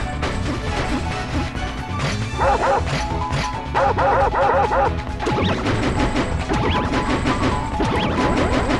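Cartoonish dog barks from the Mario & Luigi: Paper Jam video game, repeated yips and bow-wows layered over busy game music and battle effects, loud and continuous.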